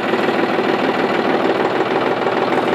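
Tractor engine running in reverse gear, a steady mid-pitched diesel drone with a slight knocking texture, loud and continuous throughout with no talk.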